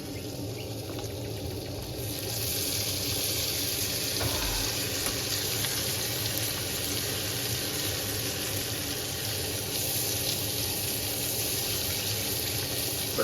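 Steak frying in melted salted butter with tomatoes and onions on an outdoor riverside cooking setup, a steady close sizzle that swells after a couple of seconds and holds evenly without talk.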